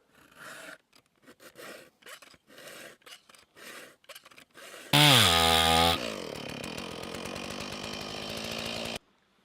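A hand saw cuts wood while an axe is being made, with a steady run of rasping back-and-forth strokes, then a sudden loud squealing burst and a sustained buzzing tone before the sound stops.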